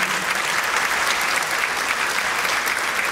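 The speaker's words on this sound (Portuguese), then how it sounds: "Eu peço palmas a esses grandes amigos" Brief, dense applause from an evening event crowd welcoming two friends to the stage, with many hands clapping steadily at close range and no speech.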